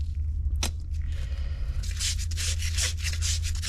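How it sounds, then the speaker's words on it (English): Sandpaper rubbed by hand against a pitted brake part from a 1972 Chevrolet C10, a few close rhythmic scratchy strokes over a low steady hum, after a brief knock. "Sandpaper here, see if we can't do something with that."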